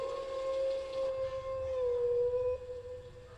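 Rabid dogs howl in Tomb Raider 3, a sustained, wavering tonal howl that slides slowly downward and carries clearly over a low background rumble, with no talking.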